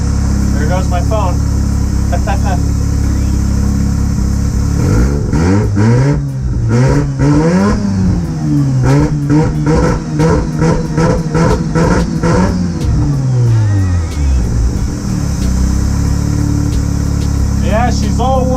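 A warmed-up Mazda RX-7 FD3S rotary engine idles with a steady buzzing hum, then is revved in a long, rising and falling sweep before settling back to a rough idle.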